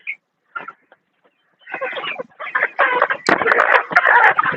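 Talang breed chickens cluck close by, scattered short calls at first that build into a busy, overlapping burst of clucking, with possible brief human voices mixed in at a poultry farm.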